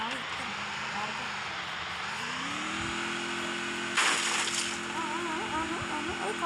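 A car engine hums steadily in the Free Fire battle royale game and its pitch rises as the vehicle turns and drives, while players talk over it the whole time.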